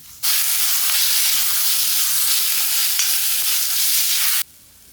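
Garam masala, chicken masala and pepper powder are stirred into hot oil with garlic-ginger paste in a frying pan, giving a loud, steady broadband sizzle that starts abruptly and cuts off after about four seconds, with no talking.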